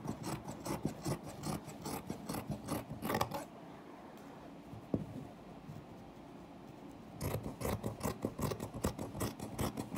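Scissors cut through folded cloth for a toaster cover, giving a steady rasping snip that pauses midway and then resumes, close and fairly quiet with no talking.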